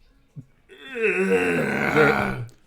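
A single drawn-out yawn with a groaning, moaning voice, rising then trailing off over about two seconds after a brief click.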